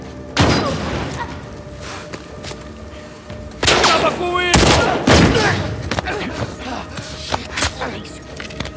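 Bursts of gunfire from The Last of Us Part II gameplay during an ambush: several loud, sharp shots and short volleys scattered across the clip, with echoing booms and a quieter stretch in between.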